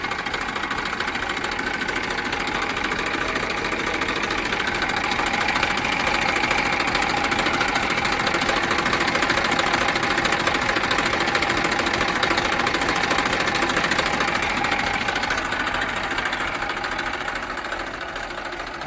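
A Massey Ferguson 241 tractor engine runs steadily at idle, a dense continuous diesel rumble with knocking texture, loud and close, with no talk over it.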